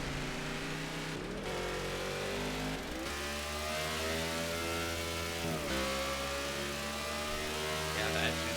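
A worn-out race car engine in NASCAR '15 drones steadily at mid pitch, with gear-shift drops and climbing revs throughout and no voices.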